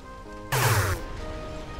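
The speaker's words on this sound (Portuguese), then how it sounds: "ele solta vários tiros, mas a distância é meio curta" One sharp, zappy laser-like blast with a falling sweep from a laser gun in GTA V, bursting out over a steady electronic hum of game sound.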